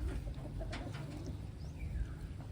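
A Taiwanese racing pigeon coos close by in a few soft, low pulses over a constant low hum, with faint chirps in the background.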